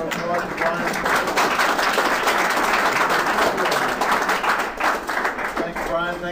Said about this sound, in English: Nice round of applause to Brian.